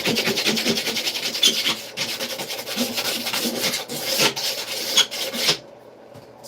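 A trowel scrapes joint compound across drywall where it meets brick during water damage repair, a close series of rough rasping strokes of varying length that stop abruptly near the end.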